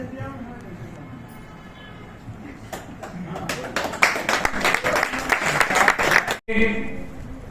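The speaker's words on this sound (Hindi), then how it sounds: "आगे की कार्रवाई के लिए मैं सतबीर जी को माइक हैंड ओवर करूंगा आपकी जोरदार तालियों के बीच में।" A seminar audience in Rohtak claps. Quiet talk leads into loud, dense applause that builds and keeps going.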